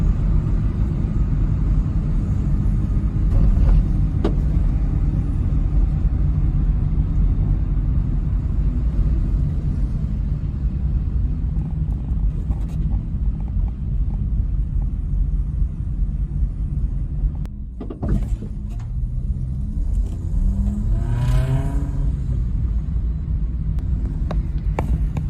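A Subaru Sambar on a test drive gives a loud, steady low engine rumble with road noise, briefly dipping before a rising whine near the end.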